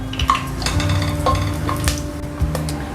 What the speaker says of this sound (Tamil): இப்போது அந்த நெய்லையே பட்டை, பிரியாணி இலை, ஸ்டார் பூ, 2 கிராம்பு, 2 ஏலக்காய் போட்டு தாளிச்சிக்கலாம்.